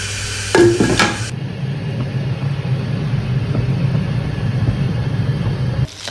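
A pot of water seasoned with turmeric, black pepper and salt, for cooking duck, clanks down onto a gas stove in a couple of quick metallic knocks, followed by a steady low burner rumble.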